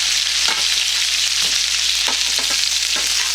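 Maple butter salmon sears in a hot pan with a loud, steady hiss of frying that runs without a break, while a few soft clicks and scrapes sound under it.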